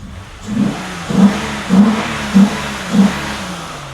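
A car engine revs in five sharp bursts about every half second, each rising and falling over a steady low rumble.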